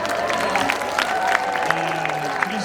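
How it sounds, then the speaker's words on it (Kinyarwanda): An audience at a ministry gathering in Kimisagara claps and cheers, a continuous patter of many hands with scattered louder claps throughout. "Nagira ngo mwongere amashyi menshi cyane."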